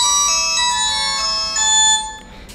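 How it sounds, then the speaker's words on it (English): Nokia 130 feature phone (2023) ringtone at maximum volume, a loud, close, bright melodic electronic tune of sustained tones that shift in pitch, playing continuously and fading slightly at the end. "you can set the ringing volume, and this is the maximum volume."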